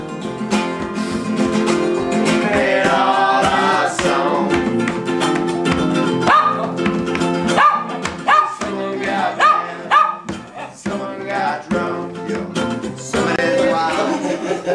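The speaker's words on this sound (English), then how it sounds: "This is my little dog, Taboo, here, lying on the floor." Small dog barking indoors in a room, heard as repeated yips and barks over loud, continuous music that fills the whole stretch.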